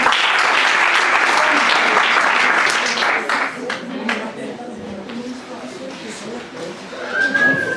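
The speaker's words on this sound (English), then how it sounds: "Can you clap hands for her?" An audience at an annual general meeting claps loudly and steadily at first, then the applause thins into scattered claps fading toward the end.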